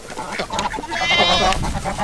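A goat bleats loudly nearby, a wavering drawn-out cry standing out among other farmyard noise.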